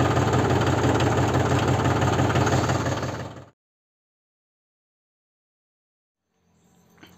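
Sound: Mahindra 275 DI tractor engine running

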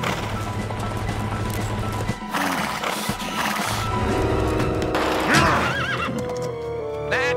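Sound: horse neighing

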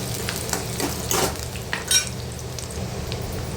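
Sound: chopped onion frying and being stirred in oil

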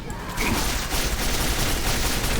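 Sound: gunfire in a video game

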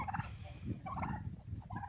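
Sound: turkeys gobbling

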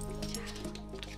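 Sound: dog barking on command

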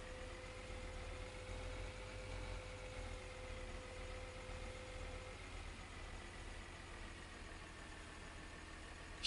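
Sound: tractor engine driving, from the video game Landwirtschafts-Simulator 2013

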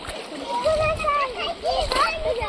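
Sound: splashing in water while swimming

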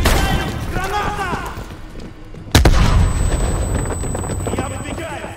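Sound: grenade explosion and gunfire in Call of Duty Black Ops Cold War, video game

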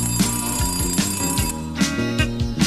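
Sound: alarm clock ringing shrilly

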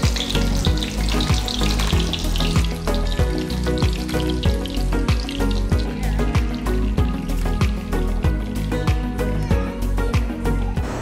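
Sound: thin tonkatsu pork cutlets frying in oil

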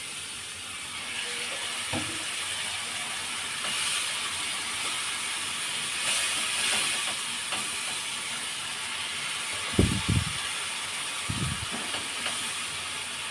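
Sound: masala simmering after adding water

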